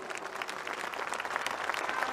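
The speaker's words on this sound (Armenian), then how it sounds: "Եկեք հատուկ ծափարենք նաև այդ դատավորներին։" An audience at a political rally in Armenia applauds in a steady, dense wash of clapping that holds at an even level from start to finish.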